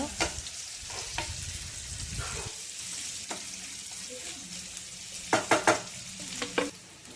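Sliced onions fry in oil while being stirred, giving a soft continuous sizzle broken by sharp scraping strokes of a spoon against the pan, some of them clustered together near the end.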